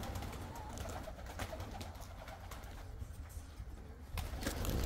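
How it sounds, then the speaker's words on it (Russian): Pigeons perched around a loft of white pigeons, heard as soft continuous cooing and fluttery bird sounds at moderate distance under steady low background noise, with no talking. "Там просто чужие голуби сидят."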